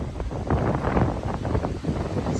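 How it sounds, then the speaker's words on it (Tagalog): Strong wind gusting along the Marikina River during a typhoon after the rain eased, a steady broadband roar buffeting the microphone throughout. "at napakalakas ng hangin"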